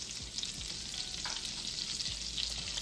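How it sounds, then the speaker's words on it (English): Onion rounds sauteing in butter in a pan over lowered heat give a steady, close sizzle and crackle throughout, with no talking. "I'm just going to saute them real quick. There's butter in here as well"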